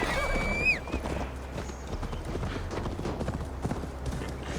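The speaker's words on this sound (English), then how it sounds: "Mount up, Eivor. It's a long ride to Tamworth." A horse in the video game Assassin's Creed Valhalla whinnies briefly, then its hooves clip-clop in a quick steady rhythm for several seconds, close and moderately loud, over a low rumbling background.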